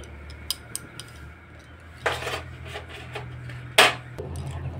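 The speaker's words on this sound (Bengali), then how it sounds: "একটা কাঁটা চামচের সাহায্যে আমি একটু নাড়িয়ে চাড়িয়ে দিচ্ছি।" A fork stirs and tosses chowmein in a pan, giving light metallic clicks and taps followed by two louder scraping rustles, close up and with no talking.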